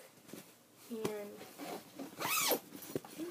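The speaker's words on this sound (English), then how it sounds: "And then there's a zipper in the back." Zipper on a fabric bag being drawn open in one quick rasping pull, close and fairly loud, with a person talking around it.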